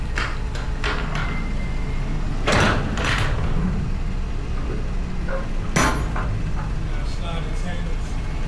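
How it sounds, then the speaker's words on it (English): Metal cargo doors on a semi truck trailer are opened at a loading stop in Carlisle, Pennsylvania, with several sharp clanks and bangs from latches and hinges over a steady idling rumble, while someone talks. "we're about to just get these doors opened up"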